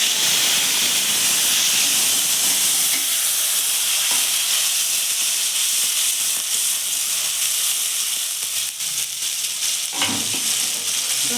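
Oil spattering loudly as ginger, garlic, onion and green chili hit hot oil in a pan, a dense continuous hiss and crackle that stays strong throughout, with a few sharper spits near the end and no talking.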